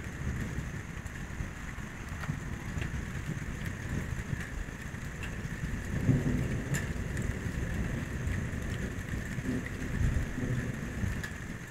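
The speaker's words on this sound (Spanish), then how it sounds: "Vean, ya se está alejando la tormenta." Steady rain hisses over a low, continuous rumble of distant thunder, with a slightly stronger roll swelling in the middle.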